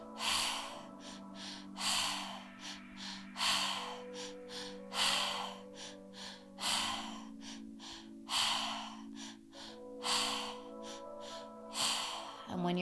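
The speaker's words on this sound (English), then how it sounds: "Keeping that breath moving, keeping that breath circulating." Guided breathwork exercise for beginners, with rhythmic deep inhales and exhales repeating steadily under a soft sustained musical drone, close and moderately quiet.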